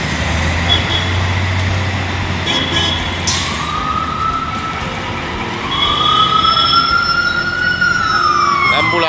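An ambulance siren wails up and down amid loud street traffic in New York, growing more prominent toward the end as it draws nearer.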